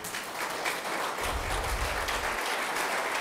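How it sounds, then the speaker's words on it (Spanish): A church congregation applauds after a sermon, a burst of clapping from many hands that swells and carries on steadily for a few seconds at moderate volume. "Le demos un aplauso, Él se lo merece"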